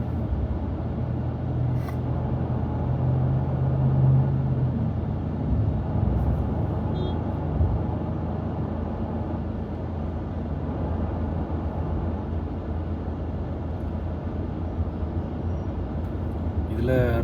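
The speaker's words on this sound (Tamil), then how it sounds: "அதான் இவ்வளோ டிராஃபிக்" Busy city road traffic near a metro station after signals reopen, a continuous low rumble of cars and other vehicles passing close by, steady throughout with a brief horn-like tone early on.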